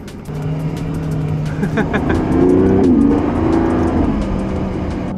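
A Lamborghini Revuelto drives with its engine droning steadily and rising in pitch under acceleration, recorded from inside the car at moderate, continuous loudness without talk.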